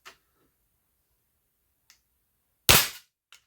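A Northernaer breaker air pistol fires a single sharp, loud crack near the end, with a few faint clicks of handling around it in otherwise quiet surroundings.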